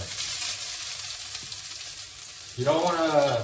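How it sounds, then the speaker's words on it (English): Garlic sizzles steadily in hot oil in a pan for prawn pasta, a continuous frying hiss, before a voice starts talking near the end. "You don't really wanna brown the garlic too much because we're gonna keep on cooking it."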